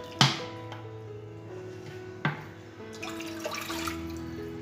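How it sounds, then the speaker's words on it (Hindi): Water is poured into a pressure cooker in a home kitchen, with two sharp clanks of metal and a steady trickling splash under a low background hum, alone without speech. "तो यहाँ पर मैंने प्रेशर कुकर ले लिया है जिसमें मैं डाल दूंगी 2 कप पानी।"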